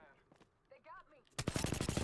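Rapid automatic gunfire in Apex Legends bursts in loudly after a quieter stretch of game voice lines and effects, a dense run of sharp shots filling the last half second.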